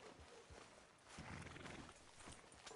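Clip-clop hooves and a whinny from a horse in a Grand Theft Auto video game, a short, quiet passage of hoofbeats with a neigh rising through the middle.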